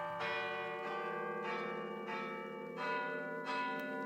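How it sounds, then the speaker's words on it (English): Church bells toll at midnight on Christmas, with slow, evenly spaced resonant strokes whose long ringing tails overlap, heard clearly with no talk. "Listen, the bells."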